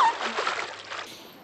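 Several people wade through a shallow river, their legs churning the water into a brief burst of splashing and sloshing that trails off into a softer trickle.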